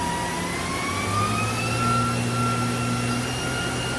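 Spindle of a 2010 Mazak Nexus 510C CNC machine running at high RPM, with a steady whine that rises in pitch as the speed increases, over a constant mechanical hum with no talking.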